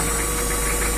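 A 1981 Peugeot 604 turbo diesel idling, a loud, close, steady knocking rumble that fills the short stretch without pause or talk.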